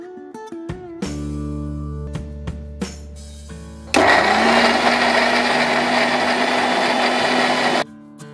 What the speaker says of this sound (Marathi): सो मित्रांनो आता आपण हे सगळ्यांचे बारीक तुकडे करून एका मिक्सरच्या भांड्यामध्ये टाकणार आहोत.